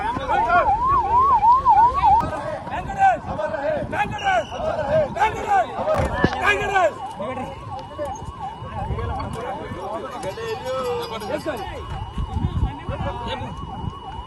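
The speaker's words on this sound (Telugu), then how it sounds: "అంబులెన్స్" An ambulance siren wails in repeated rising and falling sweeps during a police armed forces drill, loud at first and then continuing somewhat farther off under background commotion and voices.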